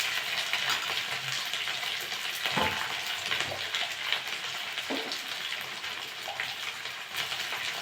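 Ginger-garlic paste fries and is stirred in a pan with taro root pieces, making a steady close sizzle with occasional scraping and stirring bumps throughout.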